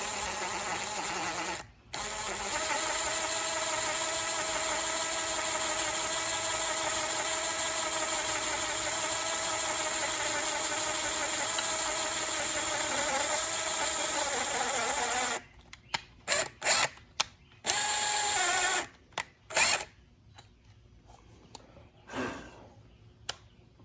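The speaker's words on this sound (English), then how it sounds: "I don't want the exact size, but just enough to hit this globs of JB weld. Cut on through here slowly." A power tool grinds steadily through globs of JB Weld on an intake manifold, a loud continuous whine lasting about fifteen seconds, then stopping and restarting in short bursts before falling quiet.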